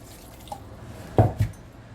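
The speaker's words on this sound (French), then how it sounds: "Là, je rajoute de l'eau." Water is poured into bread dough in a quiet kitchen, heard as two brief, close splashy gurgles in quick succession after near silence.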